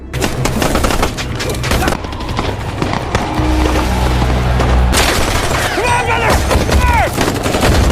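Rapid gunfire in a film gunfight scene from The Forever Purge, dense bursts of loud shots and booms that crowd together, mixed with shouting and dramatic soundtrack noise.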